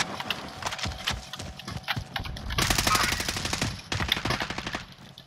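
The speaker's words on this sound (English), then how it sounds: "he's sniping me, he's sniping me" Rapid sniper and automatic gunfire in a squad-based shooter video game, sharp shots firing in quick repeated bursts, loud and close, with a denser volley midway.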